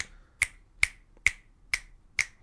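Five crisp finger clicks made behind a HyperX QuadCast S microphone, evenly spaced about half a second apart, with nothing else around them.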